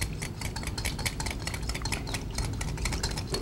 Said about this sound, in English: Whisk that together because we got to get that honey worked in.